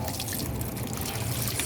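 Water trickling and dripping from washed painted fabric as it is gently squeezed, a soft continuous patter, close and quiet.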